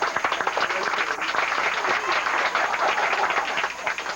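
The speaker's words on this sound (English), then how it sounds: "Have a little round of applause for Bill Payton" An audience at a church talent show gives a round of applause for a reverend, with loud, close, dense clapping that holds steady for several seconds before thinning slightly.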